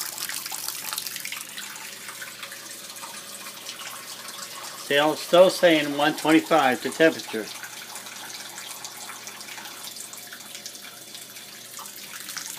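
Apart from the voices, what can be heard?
low-pressure water running from tap, tankless electric heater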